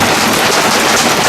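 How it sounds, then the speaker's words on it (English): Heavy hail drums down hard and continuously on a boat, a dense, loud roar of countless impacts with no break. "Massive hail!"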